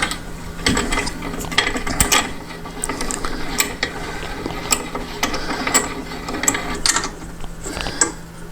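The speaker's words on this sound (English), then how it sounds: "I'm going to clamp it in place with the C-clamp" A C-clamp tightened onto a flat bar stock guide for a satellite dish LNB arm, giving a series of sharp ratcheting metal clicks and creaks in irregular bursts, close and fairly loud, with no talk.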